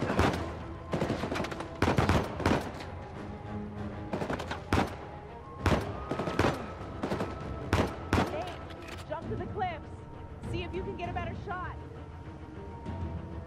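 Repeated gunfire bursts and single shots crack through a firefight in the action-adventure game Uncharted 4: A Thief's End, loud and close, with game music and effects filling the gaps and a player talking at times.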